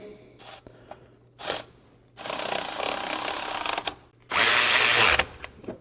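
A power tool tightens exhaust bolts on an International 1110 truck in a few whirring bursts: two short blips, then a longer sustained run and a final loud, strained burst, with quiet pauses between.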